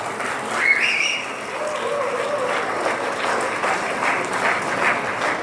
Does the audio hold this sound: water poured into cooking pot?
no